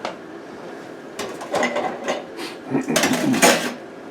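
Potatoes tumble into a pan during a roast beef dinner, a scatter of knocks and scrapes against metal in two short bursts, close and moderately loud, with no talking.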